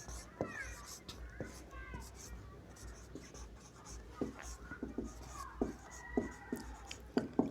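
A pen writing on paper in short scratchy strokes and taps at an irregular pace, close and quiet, with a voice and other speech faintly in the background.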